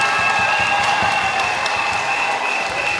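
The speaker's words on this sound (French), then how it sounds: "Applaudissez pour vous." A crowd in a church claps steadily throughout, a dense, even wash of applause with no pauses.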